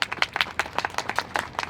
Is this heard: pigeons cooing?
no